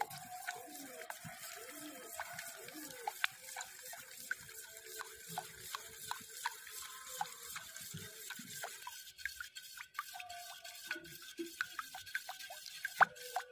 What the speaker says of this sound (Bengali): এবার সবগুলো উপকরণ খুব ভালোভাবে মিশিয়ে নেব।